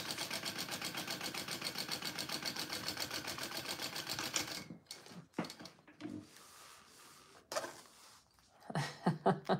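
A home sewing machine stitches a garment top shut, running in a steady loud rhythmic drone for several seconds before stopping, followed by scattered handling knocks and rustles.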